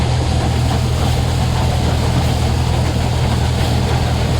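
A farm tractor engine runs steadily at a constant low throttle, a loud unbroken low rumble with no voices over it.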